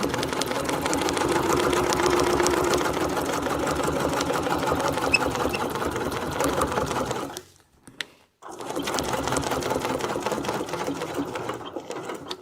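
A sewing machine stitching a wreath design, running steadily and loud for about seven seconds, pausing briefly with a short isolated burst, then resuming at the same even pace.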